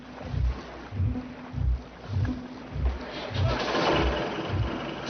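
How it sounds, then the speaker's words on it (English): A boat engine cranks repeatedly in rhythmic low chugging bursts, about eight turns, before roughening into a rougher continuous rumble near the end; close and moderately loud. "Ellen, try to start the engine."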